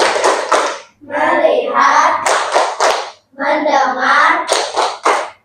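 Rhythmic hand clapping from a group during a 'tepuk fokus' classroom ice-breaker, short bursts of claps alternating with voices chanting in unison, close and loud.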